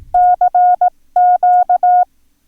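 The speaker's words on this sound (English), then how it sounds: "So if we did the CQ, it would sound like this." Clean, loud Morse code beeps spell two letters: dash dot dash dot, a brief gap, then dash dash dot dash, on one steady pitch.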